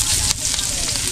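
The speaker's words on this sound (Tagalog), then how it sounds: "Ayan na, nakasalang na. Meron na tayong bawang sibuyas." Garlic and onion frying in a pan, a bright, steady sizzle with crackling close by, while someone talks over it.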